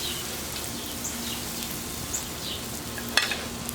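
Blackened ribeye steak searing on a Blackstone griddle, a steady broadband sizzle with scattered crackles and pops, one sharper pop near the end.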